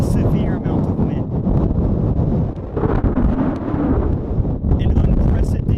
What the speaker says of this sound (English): accompanied by a lot of wind. A severe amount of wind.